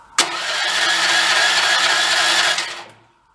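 A small gasoline engine on a used Chinese-made skid steer cranks and catches, running loud and steady at low throttle with no choke for a few seconds before cutting out.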